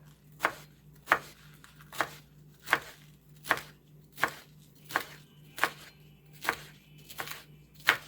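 A knife slices down through rolled cabbage leaves on a cutting board, about a dozen crisp, evenly spaced chops at a steady rhythm, close and alone without talk.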